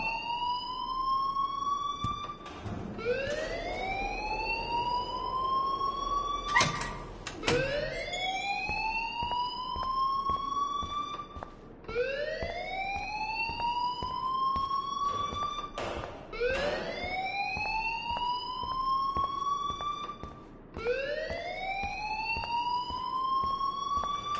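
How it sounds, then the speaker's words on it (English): A wailing electronic alarm sounds in a video game, repeatedly rising in pitch like a siren, loud and continuous with overlapping cycles and a few sharp bursts between them. "please turn off that alarm since that's your job"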